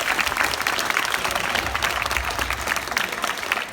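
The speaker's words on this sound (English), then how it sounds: "If I can get a round of applause." An audience at a Clerkenwell Design Week presentation claps for the evening's speakers, a dense, even burst of applause filling the room without a break.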